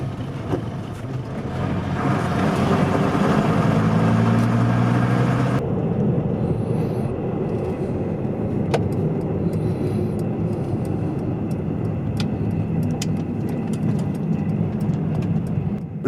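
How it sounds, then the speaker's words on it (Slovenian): A TAM 100T8 small truck drives with a steady, loud engine drone and rumbling tyre noise throughout, the engine tone rising and then easing off partway through. "Pripeljal je nazaj na dvorišče, da tovornjak podrobneje pogledava."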